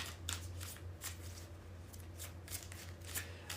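A tarot deck is shuffled by hand in repeated crisp riffles and rustling card flicks, close and fairly quiet over a steady low hum.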